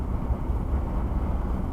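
Interior drone of a Ford Crown Victoria Police Interceptor cruising in overdrive, a steady low engine and road rumble with no change in pitch.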